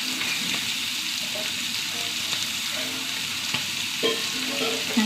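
Thick pieces of fish frying in oil in a pan at home, a steady bright sizzle and crackle with faint stirring scrapes and a few soft knocks, close and continuous, no voices.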